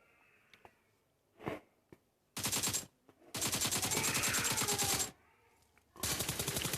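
Automatic gunfire in a shooter video game, coming as loud, dense bursts of rapid shots with short pauses between them after a few quiet isolated sounds at the start.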